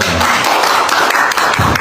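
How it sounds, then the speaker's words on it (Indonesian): A crowd packed into a town square applauds at a public gathering, loud close clapping with individual sharp hand claps standing out from the dense burst. "Tepuk tangan semua kawan."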